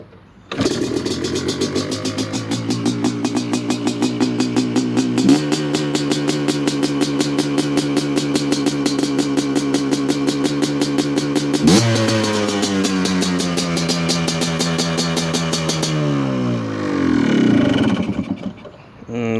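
A race-ready 2006 Yamaha Blaster 200 ATV engine kicks over and runs, sustained loud two-stroke buzz with repeated revs rising and falling, close to the mic, settling toward idle near the end.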